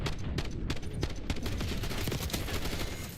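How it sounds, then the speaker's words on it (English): A machine gun fires in Black Ops 6, a fast continuous burst of shots rattling steadily for a few seconds, fairly close and moderately loud, with no talking over it. "Oh, this is an MG."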